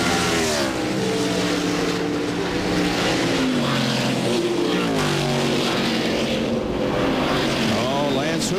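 1997 NASCAR stock cars race at Watkins Glen, with a steady loud engine roar and shifting pitch as cars run together, heard under continuous commentary.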